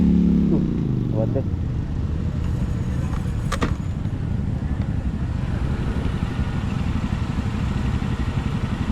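Continuous engine drone of a 125cc motorcycle on the move, steady and loud with wind rumble, with a voice briefly speaking over it.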